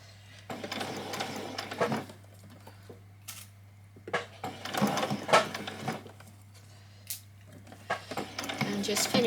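Sewing machine running short bursts of back stitching on a child's dress, its mechanical whirring starting and stopping in a few quick runs, with a steady low hum in between.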